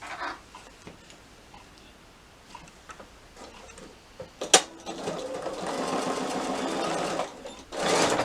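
A sewing machine stitches across the top of a small batik fabric wallet to form a gusset. Quiet handling taps come first, then a close, steady whirring run, a short pause and another brief burst.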